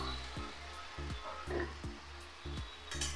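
Spiced boiled peas being fried for chana paneer give a soft sizzle with rhythmic stirring scrapes in the pan, fairly quiet and close.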